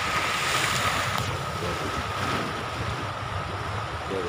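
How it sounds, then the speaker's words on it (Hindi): Sea waves washing in a steady broadband rush, mixed with wind buffeting the microphone, continuous and fairly loud with no talking. "तेरे समुद्र की लहर है"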